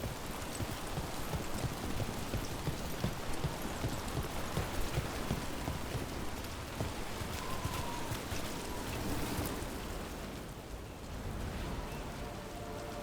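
Steady rain in the video game Dragon Age: The Veilguard, a dense continuous hiss of falling drops with low rumbling texture and faint rhythmic knocks, holding even and fairly loud throughout with no talking.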